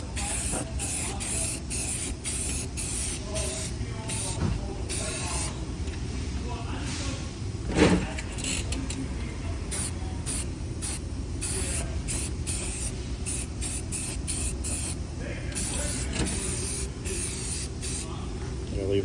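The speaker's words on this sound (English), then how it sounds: "I already started spraying" A car body is spray painted in a repair shop, with a steady hissing spray broken by short rhythmic pauses between passes and a soft bump partway through, close and loud, with no talking.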